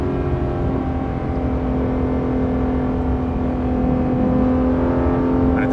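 Porsche 991.2 GT3 RS exhaust droning steadily from inside the cabin while driving, a loud sustained engine tone with a strong low hum and slight rise toward the end.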